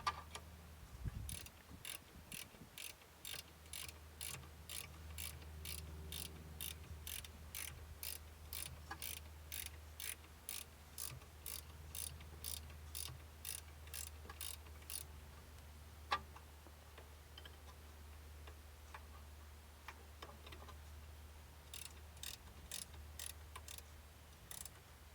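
A ratchet clicks in quick, steady bursts as it tightens the brake caliper bolts on an Audi A3, the close mechanical ticking pausing briefly before a second run of strokes.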